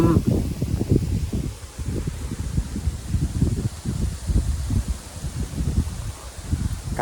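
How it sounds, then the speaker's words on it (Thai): Strong wind blowing outdoors in rural Thai countryside during a hunt for giant honeybees, producing continuous gusty rumbling and buffeting rustle close to the microphone, with no voices. "ลมแรงเพื่อนๆนี่ครับ ลมแรงเลย"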